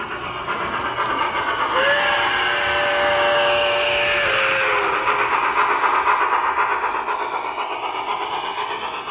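A model train locomotive runs with a steady rattling rumble, and a long whistle tone sounds for a couple of seconds before the running noise continues alone.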